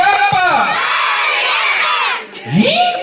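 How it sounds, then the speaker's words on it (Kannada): A festival crowd at a Ganesha festival comedy show roars with loud cheering, whoops and shouts, a dense sustained wall of voices that briefly dips before swelling again. "ಸ್ನೇಹಿತರೆ ಜೋರಾದ ಚಪ್ಪಾಳೆಯನ್ನ ನೀಡಬೇಕು"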